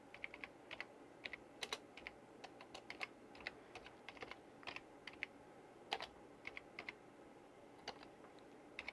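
Steady typing on a computer keyboard beside an old corroded 286 PC, a long run of quiet, close key clicks in irregular bursts with a faint hum beneath and no talking.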